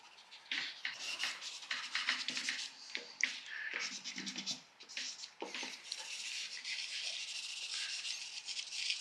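A putty rubber rubs over a charcoal drawing of trees and hedgerows, with close, soft scratchy scrubbing strokes in short irregular bursts, quiet and dry, with no talking.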